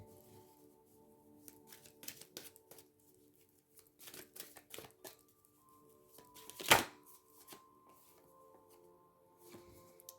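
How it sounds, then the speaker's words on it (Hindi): A card is pulled from an oracle deck, heard as soft, close shuffling rustles and light taps, with one sharper snap partway through, all faint and without talk. "एक निकाल लेंगे इस डेक से"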